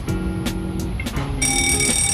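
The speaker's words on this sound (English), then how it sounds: "So when the smoke detector has sensed the smoke, the alarm will be sound to alert the people." An optical smoke alarm beeps in short, sharp, repeated tones, close and loud, with a brief pause before a steadier high tone takes over.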